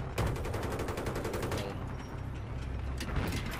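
Heavy gunfire aimed at a tank in Battlefield 3, a dense continuous barrage of rapid shots and booming impacts over a deep rumbling bed, loud and close throughout.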